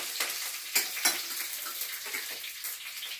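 Curry leaves hiss and sizzle in hot oil in a pan, a steady close frying crackle with a couple of sharper pops and stirring clatter, cooked for a kodithoova (stinging nettle) thoran.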